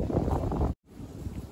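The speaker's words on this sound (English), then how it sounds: "It's so windy out." Wind blowing outdoors makes a steady, close rushing roar that buffets the microphone, cut by a brief moment of silence midway before resuming.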